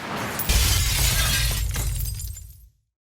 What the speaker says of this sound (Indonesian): untuk memecahkan ventilasi kaca yang berada di langit-langit